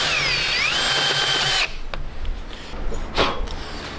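A power drill with a countersink bit spins at its lowest speed setting, whining steadily for about a second and a half and then stopping, followed by quieter handling noise and low background rumble.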